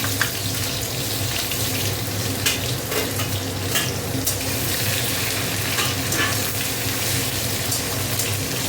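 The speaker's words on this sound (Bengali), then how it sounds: "পেঁয়াজটা একটু ভেজে নেব।" Onions fry in a pan with a loud, dense, unbroken hiss that stays close and constant throughout.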